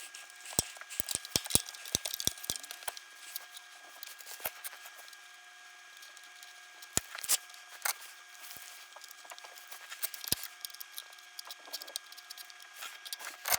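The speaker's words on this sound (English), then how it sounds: "I'm just going to snip off the excess there on the legs because that's no longer needed" Cutters snipping the excess capacitor legs during a Squier Bullet Stratocaster rewiring, several sharp close clicks in a quick cluster early, then sparse single snips over quiet handling noise.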